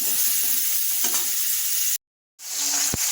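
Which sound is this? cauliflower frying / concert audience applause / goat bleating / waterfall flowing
cauliflower frying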